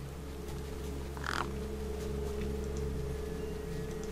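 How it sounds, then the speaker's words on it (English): Crows caw over a corpse propped against a rock in the video game Beyond a Steel Sky, a single distinct caw rising briefly above a steady low mechanical hum and faint ambient noise. "The gang birds were eyeing up the corpse hungrily."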